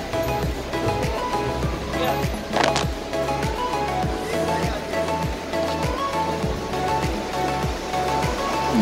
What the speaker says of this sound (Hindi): सामने आपको आवाज आ रही होगी नदी की।